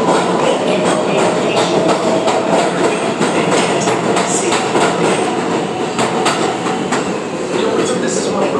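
New York City subway train running on the tracks, a loud, continuous rumble with steady clickety-clack wheel beats and brief metallic squeals, heard close up from inside or beside the car.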